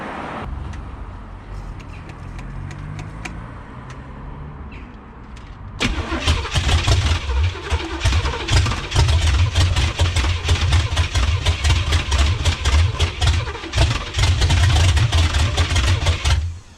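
A 1985 Pontiac Trans Am with a 5.7 engine, idle for seven years, cranks with a quiet whirring starter. Then it fires loudly into a rough, pulsing run that sits close and dominates the rest of the clip.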